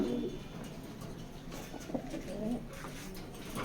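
Young racing pigeons in a loft coo softly a few times, quiet low calls over faint background noise.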